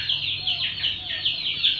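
A mother hen clucks continuously beside turkey and chicken chicks in an open hanging coop, a steady high chatter of bird calls with no talk.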